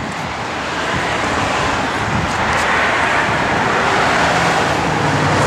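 A 1982 Chevrolet K10 short-wheelbase 4x4 truck with 2.5-inch dual exhaust and a 4-inch lift idles steadily, a loud, close, continuous engine rumble with hiss on top and no talk.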